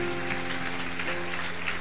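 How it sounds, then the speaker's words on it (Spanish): Congregation clapping during a church service, a brief dense wash of applause heard behind sustained musical tones. "apláudenle fuerte al Señor"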